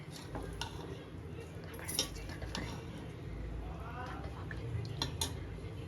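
A spoon scrapes and clinks against a pot while Hyderabad-style paneer biryani is mixed, a series of faint metallic knocks and scrapes over a soft background hum.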